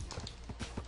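Horse hooves in Minecraft clip-clop in a quick, uneven run of soft knocks, faint and close, with no one talking.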